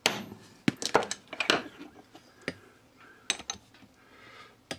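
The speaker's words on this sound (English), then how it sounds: "tap it with the hammer." A hammer taps a centre punch on a Perspex rod, making a series of sharp, close metallic ticks and knocks at irregular intervals, some louder than others, over a quiet background.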